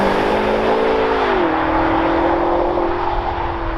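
2020 BMW X6M Competition SUV, 625 hp, accelerating hard: a loud, sustained engine roar climbing in pitch, a gear change around the midpoint, then pulling on strongly under road and wind noise.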